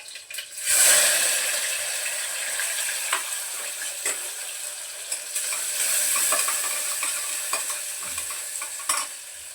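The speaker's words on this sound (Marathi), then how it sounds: "कांदा चांगला परतून घेते नंतर टमाटा घालते" Onion and tomato sauté in a hot pan for a Marathi curry, a steady sizzle and frying hiss with stirring scrapes throughout, close and fairly loud with no talk.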